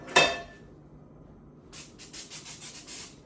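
Cooking oil spray hisses onto a pan on the stove in a quick series of short, soft bursts, after one brief sharper sound, fairly quiet and close with no talk.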